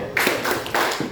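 A class claps in rhythm in a classroom, a few sharp, close, patterned hand claps spaced in a short deliberate sequence.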